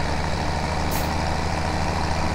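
A tractor with a bale loader drives up to straw and hay bales in Farming Simulator 17, its steady diesel engine drone loud and continuous, with a brief airy hiss partway through.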